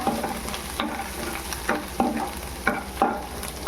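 Crushed ginger sizzles in hot oil for a tempering, a steady frying hiss broken by several sharp stirring scrapes, close by with no talking.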